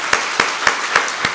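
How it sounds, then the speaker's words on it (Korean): Congregation clapping in a Baptist church during a New Year's Eve service, heard as a few slow, evenly spaced claps, close and fairly loud with quiet gaps between them. "축하의 박수, 감사의 박수, 격려의 박수 한번 해주시기 바랍니다."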